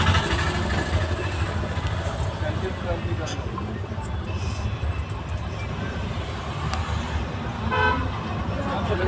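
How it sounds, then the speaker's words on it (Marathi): Traffic jam at Lonavala, a dense, continuous rumble of idling cars and engines with scattered horn toots, and people talking nearby throughout. "दिसतो ही लोणावळ्याची ट्रॅफिक"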